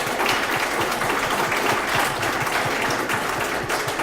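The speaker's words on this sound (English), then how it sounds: "Can we have a round of applause?" An audience at an opioid overdose awareness and prevention event gives the speakers a round of applause, a steady, dense, moderately loud patter of many hands that continues evenly from start to finish.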